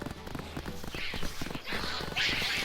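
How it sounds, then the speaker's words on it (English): Horse hooves clip-clop in a rapid galloping rhythm in the Black Desert Online video game, a steady close beat with brief swooshing bursts layered over it. "holding down L2 to go as fast as I possibly can on a horse"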